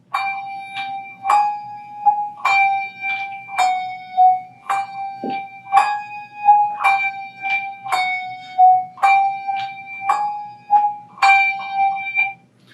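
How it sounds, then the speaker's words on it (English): Handbells ring in a traveling four-in-hand practice pattern, with one top bell alternating against two bottom bells. Clear, resonant strikes fall in a steady repeating rhythm, loud and close, each tone ringing on into the next. "So I'm going to have a single bell in my hand. That's always going to be my top bell. And then I'm just going to switch between two bottom bells."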